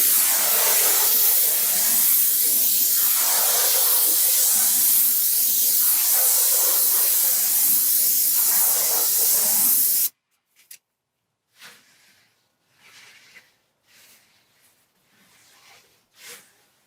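A paint sprayer shoots stain onto a dry wooden fence, giving a loud, steady hiss that runs unbroken for about ten seconds and then cuts off, leaving only faint scattered sounds.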